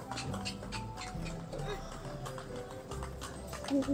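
A horse pulling a kalesa carriage clip-clops along a street on a tour, its hoof taps steady under a voice talking nearby.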